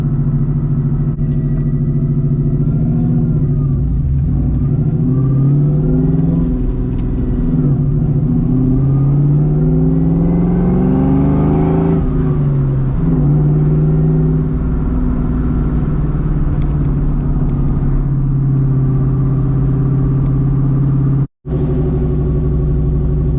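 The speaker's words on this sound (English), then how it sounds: "you can faintly hear the blower spinning" Constant engine rumble inside a moving 1997 Ford Mustang Cobra with a supercharger, its faint high blower whine rising and falling as the revs change, loud and close throughout.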